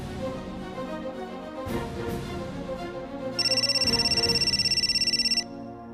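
A phone ringtone starts partway through, a bright repeating electronic ring heard close over low background music, continuing for a couple of seconds.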